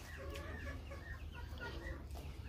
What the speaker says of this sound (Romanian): sunt niște găini de casă, de oat